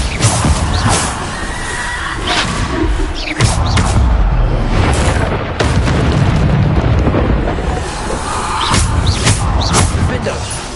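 Bombarda spell explosions in the video game Hogwarts Legacy: several loud, booming blasts burst out at intervals over a steady bed of game sound, with a voice appearing briefly.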